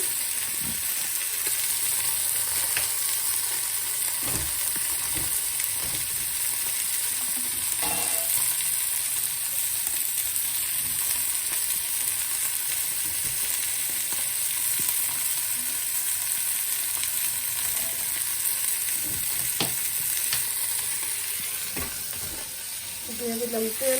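Oil heating in a hot kadai, a continuous bright sizzle and hiss running steadily throughout with occasional small clinks, no speech.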